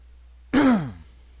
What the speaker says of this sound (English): Wow, sorry about the cough here.